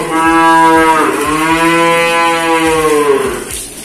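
A male calf at a livestock sale lows loudly and continuously, one long drawn-out bellow filling nearly four seconds, close to the listener with no talk over it.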